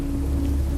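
Steady rain pours down in a thunderstorm on a lonely road at night, a dense, even hiss with a low constant rumble underneath, no voices.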